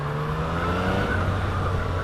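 Yamaha MT-09 (FZ-09) motorcycle with a new engine that is not yet run in, heard as a steady, fairly loud engine drone whose pitch shifts slightly partway through, with no talking.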